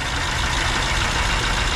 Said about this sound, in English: That engine's shaking, man.